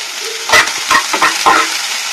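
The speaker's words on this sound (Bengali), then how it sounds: "তো পেঁয়াজগুলো একটু লাল লাল করে আমি ভেজে নেব" Chopped onions and green chillies frying in a pan, a loud close sizzle with several quick stirring scrapes over a steady hiss.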